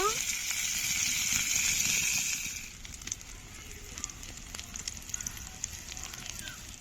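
Chicken and egg stuffed capsicum frying in a pan, a soft steady sizzle that is louder at first and then settles into a quieter crackle with occasional pops.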